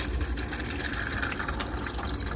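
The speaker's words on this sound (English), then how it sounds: "to the very bottom of this, I'm gonna add 2 cups of water" Water is poured steadily into the bottom of a crock pot for pumpkin bread, a continuous soft splashing gush that stays fairly quiet throughout with no talking.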